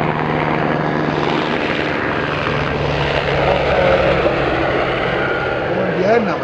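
A helicopter flies over a rally stage, its rotor and engine drone continuous and fairly loud, with voices talking beneath it.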